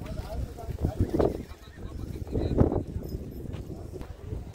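Hooves of a Garhwat mare clip-clop at a horse race gathering in Kutch, irregular close thuds rising in two clusters, with a voice talking over them.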